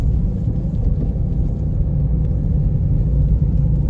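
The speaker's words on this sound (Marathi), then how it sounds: "अशा सुंदरशा अशा वळणा वळणाच्या रस्त्याने गाडी चालवताना" A car driving along a winding road through the Konkan, a low steady engine rumble heard from inside with road noise holding even throughout and no talk.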